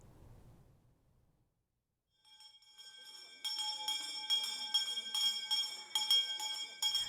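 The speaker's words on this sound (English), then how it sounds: "starts their school year with a kindergartner ringing a bell in front of the entire school" A hand bell rung by a kindergartner at a school's start-of-year gathering, bright metallic strokes ringing in a steady rapid series after a quiet start, fairly faint and distant.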